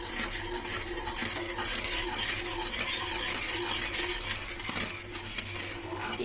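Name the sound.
stirring sugar and jaggery syrup in a pan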